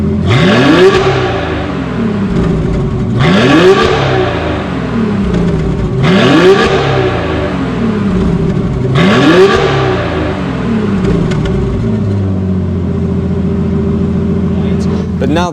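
Repeated revs from an Aston Martin Vanquish V12 exhaust feeding a mitered X-pipe, four sharp rising blips about every three seconds with a raspy top end, then settling to a steady idle, loud and close.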